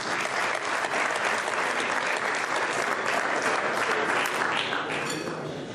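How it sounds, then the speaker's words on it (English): Dinner audience applauding dancers at a community unity dinner, a full, energetic burst of clapping from a large crowd that stays strong throughout and eases slightly at the end. "Let's give one last round of applause for all of our dancers."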